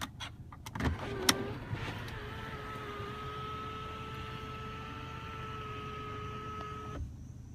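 Panoramic sunroof motor on a 2014 Mercedes-Benz E250 BlueTec 4MATIC opening, a steady electric whine that runs smoothly for about six seconds after a couple of clicks, then stops abruptly.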